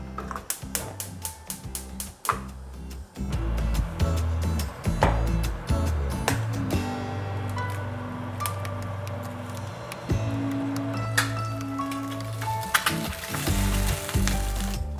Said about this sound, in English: reheat the pan, and we're gonna make 1 fried egg.